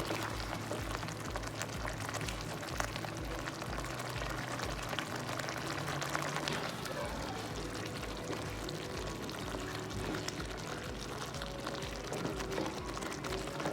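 Omelette pieces simmering in a spicy masala gravy, a steady low bubbling and gentle liquid churn that holds at an even, moderate level throughout with no talk.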